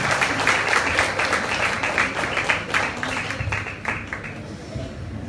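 An audience at a comedy evening with Johnny Lever claps on request, giving a steady, moderately loud patter of clapping across the clip that slowly thins toward the end, with a faint murmur beneath.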